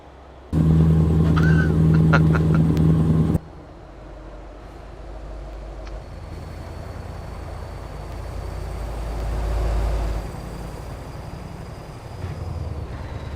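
A 560-horsepower Scania V8 truck, the older model in Euro Truck Simulator 2, hauling a B-double trailer. A loud horn-like blast opens, then a steady low engine drone rises and falls.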